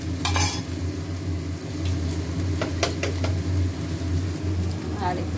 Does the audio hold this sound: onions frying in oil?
yes